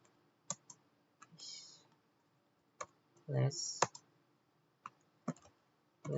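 Computer keyboard typing a Linux command, a few sparse clicks and short key taps scattered between pauses, with a brief voice sound in the middle.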